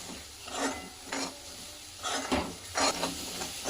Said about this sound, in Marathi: आपण याला आता तेल सुटेपर्यंत पूर्ण ग्रेव्ही अशी मस्त परतून घेणार आहोत